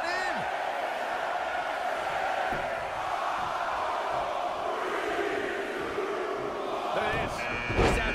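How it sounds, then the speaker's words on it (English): Dense arena crowd noise at a professional wrestling pay-per-view match, a steady loud roar of cheering that holds throughout with a brief sharper burst near the end. "Listen to this crowd."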